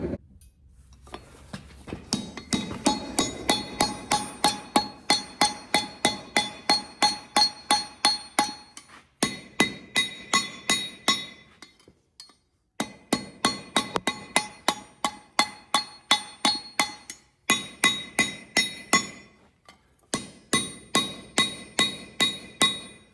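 Steady, rhythmic hammer blows ring out on hot metal over an anvil horn while a hook pick is shaped, in runs of evenly spaced strikes broken by brief pauses.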